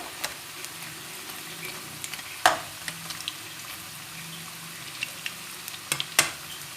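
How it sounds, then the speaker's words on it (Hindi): Gram flour pakoras deep fry in hot oil with a soft, steady bubbling sizzle, broken by occasional sharper crackles and clicks, heard fairly close and without any talking. "ये देखिए हमने सारे पकौड़े डाल दिए हैं। अब इनका गोल्डन होने का इंतज़ार करते हैं।"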